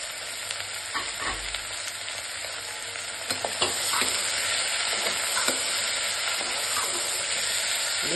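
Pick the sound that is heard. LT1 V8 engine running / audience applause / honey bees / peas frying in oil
peas frying in oil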